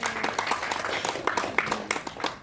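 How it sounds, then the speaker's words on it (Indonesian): Workshop audience applauding at a small-business digital literacy event, with scattered, uneven hand claps of moderate loudness continuing for a couple of seconds. "Baik teman-teman, tepuk tangannya."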